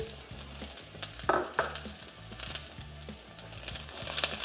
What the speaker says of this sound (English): we'll add a tablespoon of oil, vegetable oil. Into that, put the onion